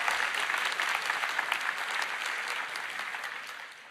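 A large audience at the RDC 2024 opening keynote claps in a dense, sustained burst of applause that gradually fades toward the end.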